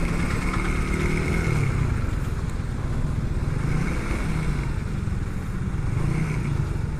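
Motorcycle and car engines idle and rumble in heavy December traffic in Naga: a steady, close, unbroken low drone that holds its level throughout.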